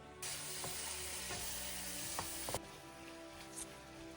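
Chicken legs sauté in a pan for butter chicken, a soft, steady sizzle close by with a few light scraping stirs and clicks.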